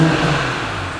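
A 2021 BMW X5 xDrive40i (G05) in Sport Plus mode gives a deep engine hum from a throttle blip that starts loud and gradually eases off, with no talking over it.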